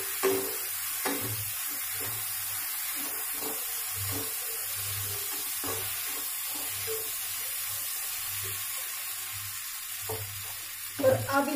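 Fried okra being mixed into masala in a pan, a constant soft sizzle and hiss beneath rhythmic scraping stirs at a steady pace, close by, with a louder clatter at the very end.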